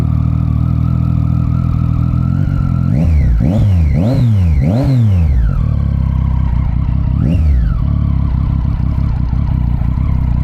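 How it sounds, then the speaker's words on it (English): A Triumph Street Triple 675R motorcycle engine revs hard in a quick run of rising and falling blips, followed by a lone rev near the end, all over a steady close idle. "Street Triple 675R. Let's go see what's this bike is about."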